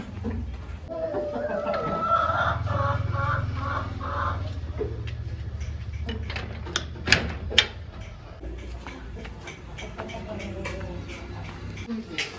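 Chickens cluck now and then in the background while people talk nearby, with a few sharp knocks partway through.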